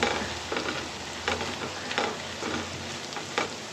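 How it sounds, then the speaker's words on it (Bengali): Potato fry with coriander leaves being stirred in a pan on the stove, a steady soft sizzle broken by a few scraping strokes of the spoon, close and moderately loud with no talking. "ধনিয়া পাতা দিয়ে একটু ভালোভাবে মিক্স করে তারপর ঢাকনা দিয়ে দিব"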